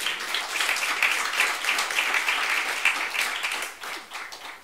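A church congregation applauds together, a dense wash of steady clapping that holds for several seconds before tapering off toward the end.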